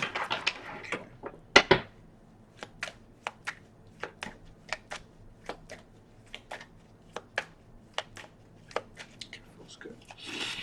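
Tarot cards shuffled close up, a string of crisp, separate taps and riffles at an uneven, fairly quick pace in an otherwise quiet room.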